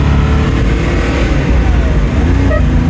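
A classic Porsche 911 T with a 915 transmission launches and accelerates hard, its engine a loud, steady, close roar with a dense rumble and no talk.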